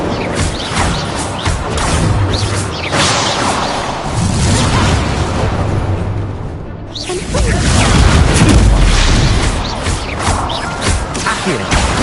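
A loud fiery whoosh and booming blast from an Incendio fire spell in the game Hogwarts Legacy, with dense crackling roars filling the scene, a brief lull, then another heavy burst of flame.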